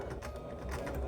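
A sewing machine with a 1/4 inch foot stitching quilt pieces together, a fast steady whirring chatter heard close for a brief moment.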